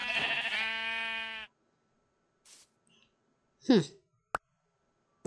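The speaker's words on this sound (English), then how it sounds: "So I decided to shear the sheep." Sheep bleating in the Minecraft video game: a loud, wavering blocky bleat at the start, then quiet gaps with a couple of short clicks and a brief hit sound near the end.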